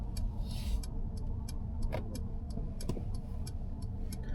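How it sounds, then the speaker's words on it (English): A car's turn indicator ticks steadily and regularly at a red light on a Glasgow driving test route, with the engine idling in first gear beneath the clicks. "indicating left"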